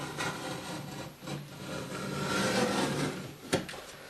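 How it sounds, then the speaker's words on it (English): A knife is drawn along a straight edge to score plasterboard in a ceiling hole repair, giving a few dry scraping, rasping strokes with a sharp tap near the end, close and fairly quiet. "score your plasterboard like so"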